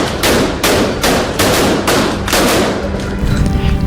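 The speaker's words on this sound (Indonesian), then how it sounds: "warga Cali di Kolombia meluncurkan kembang api dan membakar boneka-boneka diiringi musik dan sorak-sorai di jalanan" Fireworks launch at a New Year's street celebration in Cali, Colombia, as a rapid, loud series of sharp bursts about every half second, close and booming, with a crackly wash trailing off at the end.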